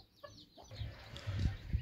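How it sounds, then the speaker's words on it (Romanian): Bantam chickens, including a bantam Cochin cockerel and a broody hen with chicks, cluck softly nearby in a pen, with short low clucks and faint higher peeps over quiet farmyard background. "acolo cloșca cu puișori"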